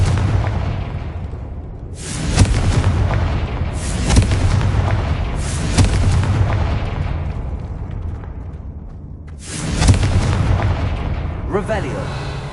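Fiery blasts from the Confringo spell in the video game Hogwarts Legacy, several loud booming bursts a couple of seconds apart with crackling tails, close and heavy.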